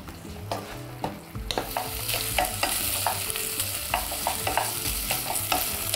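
Beef pieces fry with garlic in a hot pan, giving a steady loud sizzle broken by frequent sharp clicks and scrapes as the meat is stirred.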